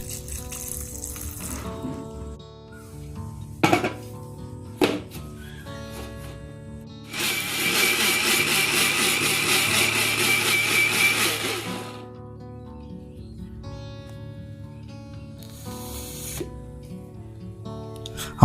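A kitchen blender grinds soaked cashews into a paste, roaring steadily for about four seconds between a few scattered clinks and knocks in a quiet room.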